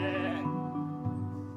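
A sheep bleats in a long, wavering, nasal call that runs through the whole moment, with a brief dip partway through, close and clear with no other sounds.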